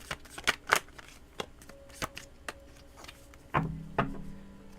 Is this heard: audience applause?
no